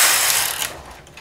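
A knitting machine carriage slides across the needle bed knitting a plain row, giving a bright, close rattling swish that fades after about half a second, with no voices.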